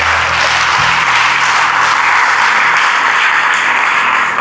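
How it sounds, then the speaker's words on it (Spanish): A church congregation applauds together during a Spanish-language worship service, sustained broadband clapping filling the room at steady loudness for the whole stretch, with no voice over it. "Ayúdame a darle al Señor un aplauso más grande y más fuerte."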